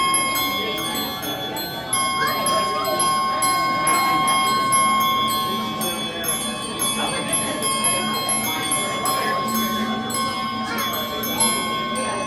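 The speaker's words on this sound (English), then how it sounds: "Now bells come out." Many small bells ring continuously in a bright, shimmering cluster at Magic Kingdom, Walt Disney World, with faint ticking and background murmur underneath, sustained for the whole stretch.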